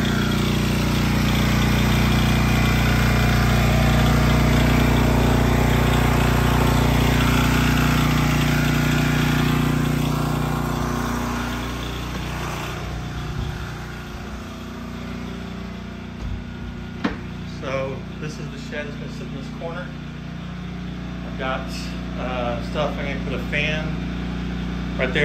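A Westinghouse WGen11500TFc portable generator runs on propane outdoors, its engine giving a loud, steady, low droning hum that eases slightly partway through and carries on without a break.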